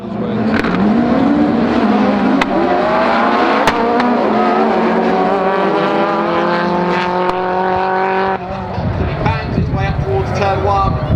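Rallycross race cars howl around the Silverstone circuit, engines revving hard and loud with rising and falling pitch as they pass, a continuous roar under steady commentary.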